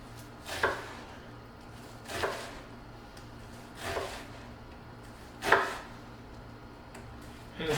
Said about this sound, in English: and then I mince it, and try to be very, very careful to try to keep them somewhat even, and go all the way through the onion.